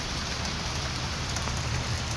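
Heavy rain pours down steadily, a dense, loud hiss of drops drumming on surfaces with no pauses and no voices.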